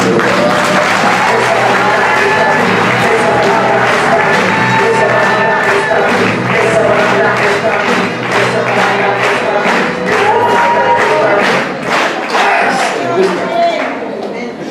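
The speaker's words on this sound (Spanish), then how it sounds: "den un fuerte aplauso porque la contagia" Loud, sustained applause from a church congregation at a Sunday service, dense and steady for the whole stretch, with cheers and shouted voices mixed into the clapping.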